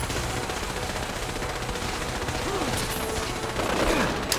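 Rapid machine gun fire crackles in a Fallout 4 battle at Bunker Hill, dense continuous bursts at moderate distance amid other game effects.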